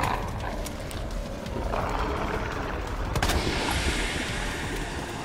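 Gunfire in the Resident Evil 2 Remake Ghost Survivors DLC: a few sharp shots crack over a dense, rumbling game soundscape, with a clustered volley near the middle.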